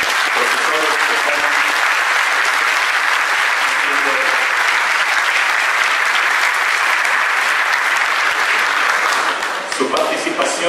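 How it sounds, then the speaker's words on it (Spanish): A crowd at the inauguration of an interdisciplinary congress applauds loudly and continuously, a thick wash of clapping that holds steady for about ten seconds, with faint voices underneath before it tapers off at the end. "Un fuerte aplauso"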